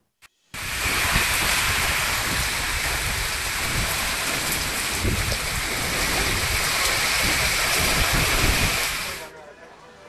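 Steady heavy rain pouring down in Bengaluru, a dense continuous hiss that starts abruptly and holds at a loud, even level for about nine seconds before cutting off, with no voices over it.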